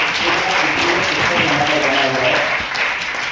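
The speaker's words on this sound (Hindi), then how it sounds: "तो स्मार्ट वैल्यू सिस्टम के लिए एक बार जोरदार ताली होनी चाहिए" Loud, dense applause fills a program hall in Ranchi, a steady wash of many hands clapping from a large audience, sustained and even throughout.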